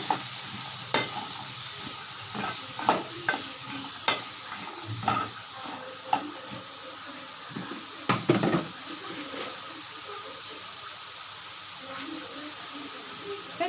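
Beetroot stir-fry is stirred in a sizzling pan, giving a soft continuous frying hiss punctuated by irregular scraping and tapping clinks of the spoon against the metal at close range, with no one speaking.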